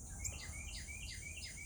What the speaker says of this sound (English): black and white cute little bird.